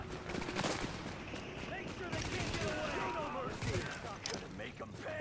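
Sniper and other gunfire crackle through a tense firefight in The Division on PS4, a dense wash of rapid shots and mechanical clatter beneath players talking over voice chat.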